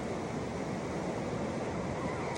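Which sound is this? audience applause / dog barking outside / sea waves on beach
sea waves on beach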